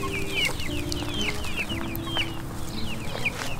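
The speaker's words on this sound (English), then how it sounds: "These are the Rhode Island Red chickens." Rhode Island Red chickens cluck busily and close by on an urban farm, a steady run of short, overlapping clucks over a constant background hum.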